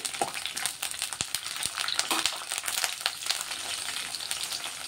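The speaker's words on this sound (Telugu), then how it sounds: "ఎండుమిర్చి కొంచెం ఫ్రై అవ్వాలి" Dried red chillies fry in a hot pan for a mint tomato chutney, giving a dense, steady sizzle with scattered sharp crackles and pops throughout.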